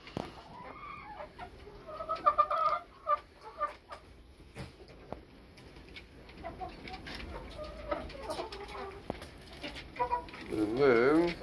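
A broody Frizzle hen clucks inside a coop, a close run of short, uneven clucks and murmurs that grows louder and more agitated at the end.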